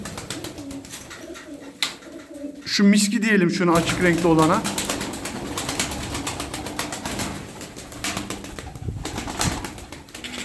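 Turkish tumbler pigeons coo nearby in a loft, a rolling burst of cooing rising partway through, while someone talks over them and wings flap intermittently.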